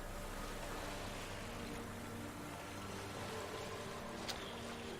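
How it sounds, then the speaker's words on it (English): A boat glides across water in The Witcher 3, a constant low rumble of motion and washing water with a faint splash near the end, no voices. "Let's first go for a naked boat ride."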